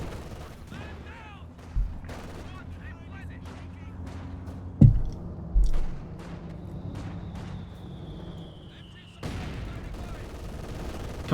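A panel-mounted DShK heavy machine gun firing from an IS-2 tank in a Company of Heroes 2 battle, short bursts and sharp shots among distant gunfire and a loud boom midway, with a commentator talking over it.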